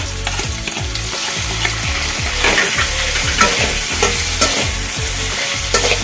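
Mango pieces fry in a pan with ginger, garlic and mustard paste, a loud busy sizzle broken by repeated rhythmic scrapes of a spoon stirring, close up with no voices.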